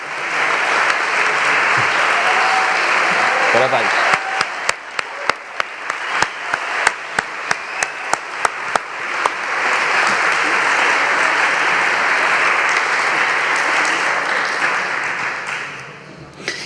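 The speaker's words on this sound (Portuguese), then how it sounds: "pedir uma salva de palmas para esta equipa do Teatro São Luís" A theatre audience at a season launch gives sustained applause for the Teatro São Luís team, with a run of sharp, distinct claps through the middle; a voice briefly offers congratulations.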